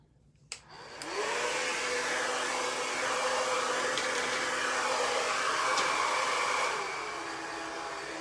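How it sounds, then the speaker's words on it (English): A blow dryer switches on with a click, then blows a steady loud whir over a card stock craft project, easing off slightly near the end, with no voices. "Or sometimes just take a blow dryer"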